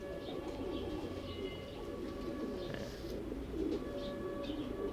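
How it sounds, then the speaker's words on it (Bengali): Pigeons kept in a breeding loft coo softly and repeatedly over a dense, continuous murmur from many birds, with occasional chirps and brief, faint voices in the background. "তো এই কবুতরগুলো দিয়ে আমরা ডিম বাচ্চা করি"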